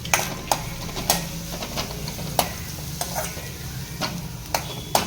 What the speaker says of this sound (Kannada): ಸ್ವಲ್ಪ ಬೇಕಿದ್ರೆ ಮೀಡಿಯಂ ಫ್ಲೇಮಲ್ಲಿ ಇಟ್ಕೊಂಡು ಈರುಳ್ಳಿಯನ್ನು ಫ್ರೈ ಮಾಡಿ